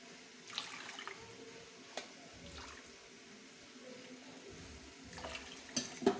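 Water poured into a cooking pot while making vegetable upma, a faint, soft trickle and splash in a quiet kitchen with a few small clinks.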